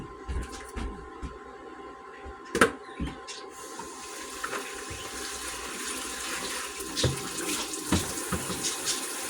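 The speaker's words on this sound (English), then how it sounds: "So I gotta rinse these noodles. Gotta get a big colander out." Tap water pours and splashes while pasta noodles are rinsed in a big colander in a kitchen sink, a continuous rush with occasional clanks and knocks.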